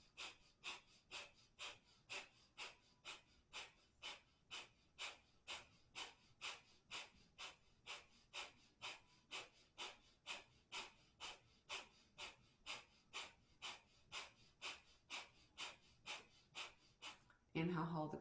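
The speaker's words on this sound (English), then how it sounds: "a 3/4 breath in through the nose and a forceful out through the nose" Breath of fire yoga breathing: a 3/4 inhale through the nose followed by forceful nasal exhales, repeated in a fast, even rhythm of about thirty sharp puffs. The breathing is close and fairly quiet, and a brief rustle follows at the end.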